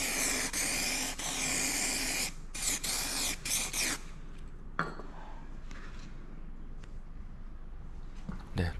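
Clear coat sprays from an aerosol onto a car bumper: steady hissing bursts for about four seconds, then quieter handling clicks and rustles.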